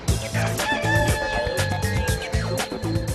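A rooster crows repeatedly, loud and close, each call rising and falling in a harsh cock-a-doodle-doo over a steady background tone.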